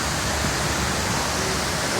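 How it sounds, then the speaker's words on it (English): A huge outdoor fountain in Grand Rapids splashes heavily, producing a loud, steady broadband rush of falling water with no pauses. "This fountain is really, really huge."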